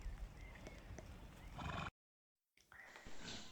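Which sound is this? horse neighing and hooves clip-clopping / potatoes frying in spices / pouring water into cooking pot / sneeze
horse neighing and hooves clip-clopping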